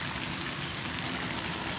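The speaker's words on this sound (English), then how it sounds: "We got a lot more rain today." Rain falling outdoors on a farm, a dense, even hiss of drops pattering steadily throughout with no voices.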